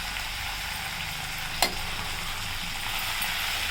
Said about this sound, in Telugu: ఇది లైట్గా వేయించుకుంటే స్మెల్ బాగుంటుంది